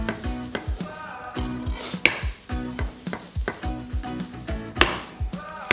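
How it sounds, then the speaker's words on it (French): A knife chops mushrooms into small pieces on a cutting board in a kitchen, firing off a steady run of sharp, close knocks at an even rhythm with a faint sizzle in the background. "Les champignons, on va les couper en petits morceaux."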